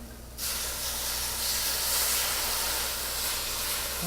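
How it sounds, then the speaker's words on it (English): Wine hits a hot pan of seared chuck short ribs to deglaze it, giving a sudden loud steady hiss and sizzle that holds for several seconds. "That's a pretty good indicator that it's time to start the deglazing process. And we're just going to deglaze with some wine."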